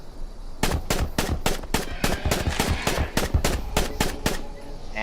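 A rifle in the Island Survival game fires a rapid, evenly spaced automatic burst of about fourteen loud, close shots after a brief quiet moment.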